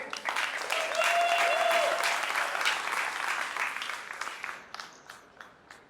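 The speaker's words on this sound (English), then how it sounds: "All right, round of applause." An audience at a LinkedIn meetup in New York breaks into sustained applause, loud and dense at first and slowly thinning toward the end, with a voice briefly audible over the clapping.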